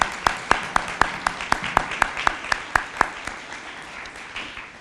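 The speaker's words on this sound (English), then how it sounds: "let's give them a round of applause" A ceremony audience in a church applauds for Eagle Scouts and Girl Scout award recipients, a steady patter of many hands with sharp, regular individual claps standing out nearby, fairly loud and sustained without talk.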